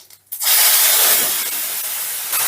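Ground spice paste hits hot ghee and oil with a sudden loud sizzle, a dense steady hiss that continues close up with no talking.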